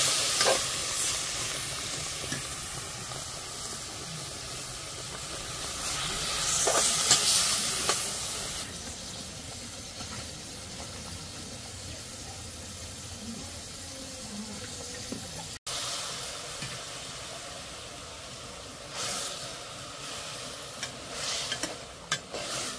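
Garlic fries with a splash of water in a pan, giving a steady broad sizzling hiss with a brief louder steamy burst near the start, continuous and close throughout.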